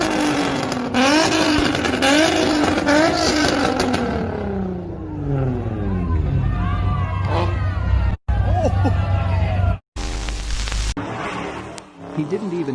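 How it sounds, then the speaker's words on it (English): A Nissan GTR accelerating on a highway, its engine revving in loud rising and falling sweeps over busy crowd chatter, with a couple of abrupt cuts near the end. "Nissan GTR having fun on the highway"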